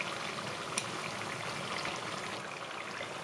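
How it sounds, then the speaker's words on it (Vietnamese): Vegetarian spring rolls deep-frying in a pan full of oil on a stovetop, a steady dense sizzling hiss with faint crackles, continuous and close throughout. "tiếp tục chiên cho đến vàng nâu, thỉnh thoảng lật lại"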